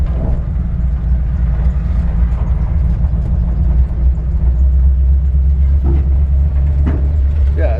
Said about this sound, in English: Actually, the exhaust sounds nice.